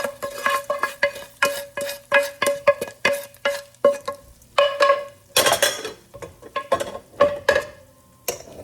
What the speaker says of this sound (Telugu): ఇప్పుడు చక్కగా కలిపేస్తాం. అంతా మిక్స్ అయ్యే వరకు పులిహోర కలిపేస్తాం.